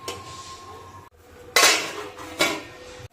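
A lid is set onto a cooking pot with two sharp metallic clanks about a second apart, preceded by a lighter clink and a faint ringing tone, close by with no voices.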